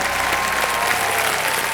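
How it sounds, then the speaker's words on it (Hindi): A studio audience at a televised quiz show applauds loudly and steadily, a dense, even wash of clapping filling the short moment without voices. "जोरदार ताली बज जाए एक बार"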